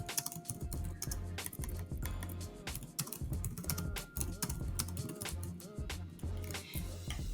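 Rapid keyboard typing while composing a message, a quick irregular stream of close key clicks with brief pauses, continuous for several seconds.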